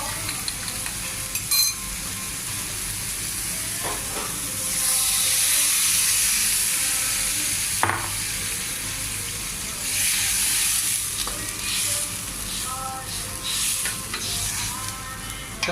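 Chicken stock poured into a hot pan of pancit guisado sets off loud bursts of hissing sizzle over steady frying and stirring, swelling twice and then settling back to a softer crackle.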